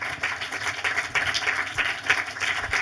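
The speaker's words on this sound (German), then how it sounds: "Herzlichen Applaus nochmal." An audience at a post-screening talk applauds director Gerd Schneider for his 2015 film Verfehlung with steady, sustained clapping from many hands that fills the room evenly throughout.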